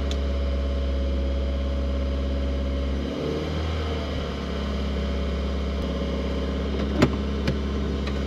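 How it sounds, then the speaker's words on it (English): A 2015-or-newer Subaru WRX idles low and steady while reversing out of a parking spot, heard from inside the car with a faint shift and a couple of small clicks near the end. "we're gonna start this video out with me just reversing out of the spot here"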